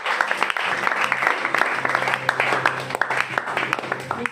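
A church congregation applauding: a steady, dense wash of many hands clapping, close and continuous for several seconds, with a low hum underneath.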